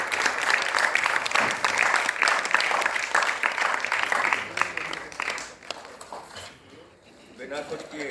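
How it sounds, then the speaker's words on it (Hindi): Theatre audience applauding to welcome a famous cricketer, hearty crowd clapping that fades out midway as talking carries on over it and then continues alone. "तालियां तो जोरदार बनती हैं"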